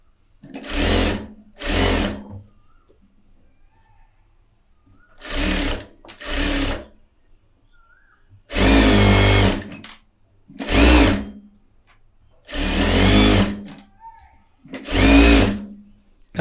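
Sewing machine stitching a bag, running in short loud bursts of rapid mechanical whirring separated by quiet pauses as the fabric is repositioned, close to the microphone.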